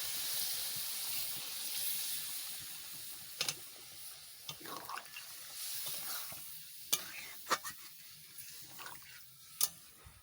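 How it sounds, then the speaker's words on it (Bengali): Biryani meat cooks in a pot with a splash of added water, a soft, quiet sizzle and bubbling punctuated by a few sharp spoon clinks and stirring scrapes. "এবারে অল্প একটু জল দেবো যাতে মাংসের ভিতরেটা একটু সেদ্ধ হয়ে যায়"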